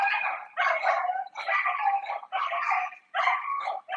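Neighbor dogs barking outdoors on a warm day, a run of five steady, evenly spaced barks, each loud and close with short pauses between, no talking over them.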